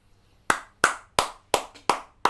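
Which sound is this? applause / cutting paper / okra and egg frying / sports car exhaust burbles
applause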